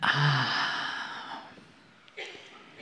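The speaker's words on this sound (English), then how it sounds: "take a breath in and let it out" A single long breath in and out, close and fairly loud, fading slowly, as if taken by a seated group during a guided relaxation at a talk in Toronto.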